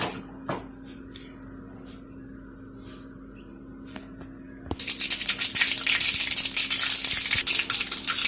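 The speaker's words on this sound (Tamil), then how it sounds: "இந்த கடுகு போட்டால் பொரிக்கிட்டு இருக்குது." Quiet kitchen clatter gives way to a dense, crackling sizzle of mustard seeds spluttering and popping in hot oil.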